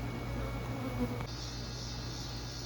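Honeybees from a cutout colony hum steadily around a Layens hive outdoors in the evening, a continuous low drone with no talking, shifting slightly in tone partway through.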